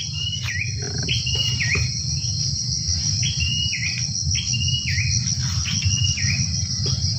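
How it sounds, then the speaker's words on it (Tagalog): Repeated short bird calls ring out on a farm over a constant, loud chorus of crickets and insects, each call a quick falling note repeated at regular intervals. "Ingay ng ibon ito. Sarap ng kanyang tunog,"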